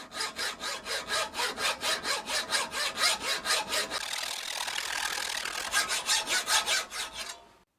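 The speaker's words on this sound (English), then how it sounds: "Man, this blade is terrible. Most of the teeth are already gone. I think that pin must be hardened." Hacksaw with a worn blade cutting a hardened pin on a Brooks B66 leather saddle, giving loud, rhythmic rasping back-and-forth strokes, a stretch of steadier grinding, then a few more quick strokes before it stops.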